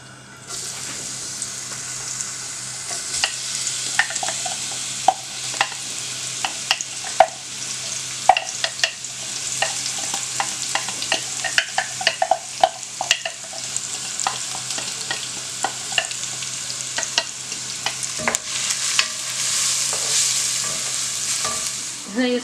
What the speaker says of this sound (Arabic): هنا في الطنجره غادي ندير الزيت ونضيف لها البصله مع الخيزو اللي طحنتهم